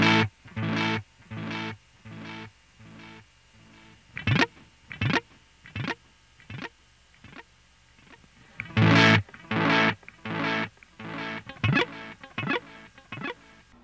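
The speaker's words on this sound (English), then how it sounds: "It stands for digital delay. Each repeat sounds just like the last one." Guitar played through a Donner Island digital delay pedal set to Digi mode: a run of plucked notes and short phrases, each trailed by clean, identical repeats that fade away, loud and close with no voices.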